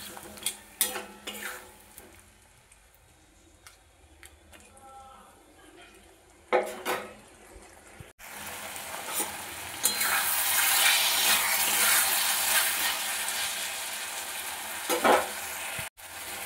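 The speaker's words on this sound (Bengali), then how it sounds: "এটার মধ্যে আমি আরও এই ছোট্ট প্লেটের 1 প্লেট জল দিয়ে দিচ্ছিলাম, দিয়ে ভালোভাবে কষিয়ে নিচ্ছি।" Potatoes cooking in masala in a pan, with scraping and clinking of a spoon against the pan early on, then a louder sustained sizzle after water is added, close by without talk.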